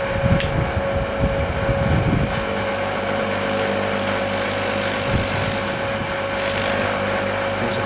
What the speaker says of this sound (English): we can plug that into the air pump